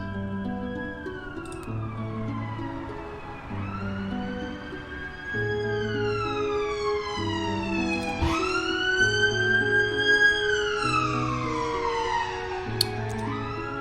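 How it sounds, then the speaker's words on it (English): A loud ambulance siren passes, wailing in long rising and falling sweeps, growing closer and stronger before trailing off, over low rumbling traffic. "And there's an ambulance."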